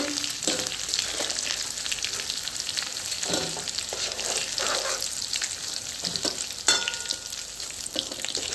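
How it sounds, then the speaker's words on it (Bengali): Paneer pieces fry in hot oil with a little turmeric, crackling and sizzling steadily up close, broken by stirring scrapes and one sharper clack, with no talk. "আমি এখন পনিরটা ভেজে নেব"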